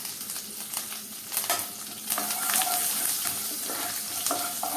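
Eight to ten curry leaves hit hot oil already holding mustard seeds, cumin, asafoetida and chopped green chilli, bursting into a close, crackling sizzle that swells and stays strong, with a few stirring clatters.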